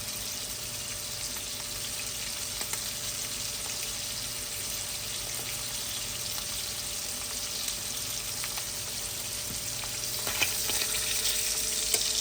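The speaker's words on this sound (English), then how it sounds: "You can tell when it's getting brown because the sizzling slows down." Steady, dense sizzling of pork chops frying in a pan, a continuous crackling hiss that holds evenly throughout with a faint steady hum beneath.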